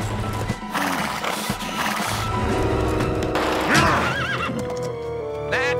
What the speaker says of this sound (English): Brave Herculean horse, Fulnus, you can do it!